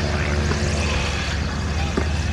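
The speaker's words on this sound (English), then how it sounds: "1936 two-seat side-by-side trainer, designed and built by Blackburn Aircraft" A 1936 Blackburn side-by-side two-seat trainer aircraft flies with a steady propeller engine drone, continuous and fairly close throughout the short stretch.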